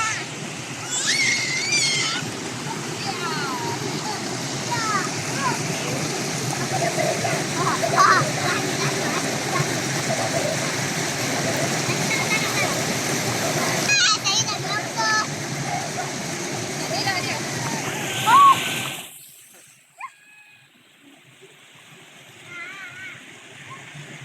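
A long river flows past a campsite at Pak Uda Campsite in Kampar, Perak, a loud, steady rushing of water close by that cuts off abruptly near the end, leaving faint ambience, with voices talking over it.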